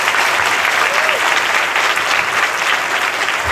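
A hall audience at a Christian preaching service claps loudly and continuously, a dense even wash of applause from start to finish.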